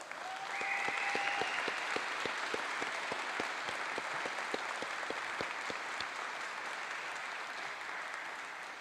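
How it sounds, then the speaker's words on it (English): A crowd at a law enforcement skills training graduation in Minnesota breaks into sustained applause for the graduates, a broad even roar of clapping that holds steady, with a brief tone near the start. "we owe them a round of applause"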